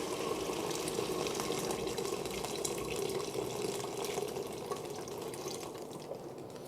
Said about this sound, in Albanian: Edhe do t'a shtoj pjesën tjetër me ujë.